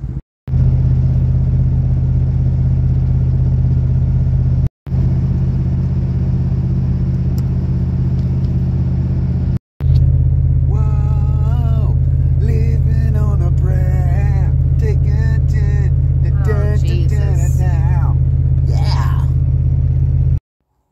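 Car driving along with a steady, loud low engine rumble and road noise throughout, briefly cut twice; people talk and sing over it in the second half.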